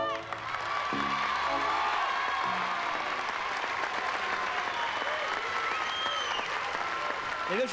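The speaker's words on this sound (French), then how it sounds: "Et je pense qu'on peut encore vous applaudir." Steady applause from a circus show audience, a broad wash of clapping from a crowd with a few whoops, continuing without a break.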